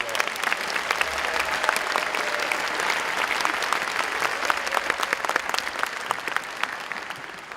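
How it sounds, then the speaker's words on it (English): Sustained applause from a large audience at a 2016 high school graduation ceremony honoring the parents, dense steady clapping with a few faint cheers, even and loud throughout. "Let's give them a big round of applause as well."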